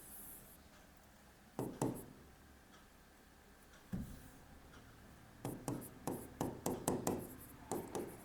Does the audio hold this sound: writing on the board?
yes